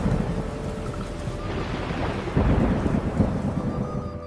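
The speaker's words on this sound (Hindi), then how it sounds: "बारिश और तेज हो गई।" Heavy rain pours steadily while low rolling thunder rumbles and builds in the second half, no voices.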